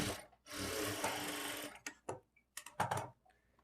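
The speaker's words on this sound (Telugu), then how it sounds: "ఇప్పుడు ఈ షేప్ బెల్ట్ని ఇలా ఫోల్డ్ చేసుకొని ఇంకొక స్టిచ్ వేసుకోవాలి." A sewing machine stitching a folded shaped belt on a lined blouse runs in a steady, close whirring burst, then gives several short start-stop runs.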